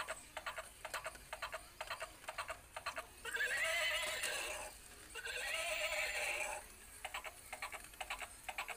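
A battery-operated toy horse gives two long electronic neighs, framed by regular mechanical clip-clop clicking in a steady rhythm.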